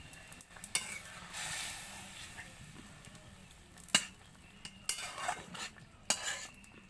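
Puti fish drop into hot oil in a pan over a clay stove, setting off bursts of crackling sizzle interleaved with sharp metallic clinks and scrapes of a spatula, close and fairly quiet, with no voices.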